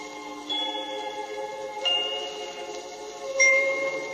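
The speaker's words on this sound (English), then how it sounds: "Even the little bells are struck like this." Small orchestral bells struck in a slow series of three clear, ringing strokes, each hit sustaining and overlapping the last, on a 1940s children's orchestra recording.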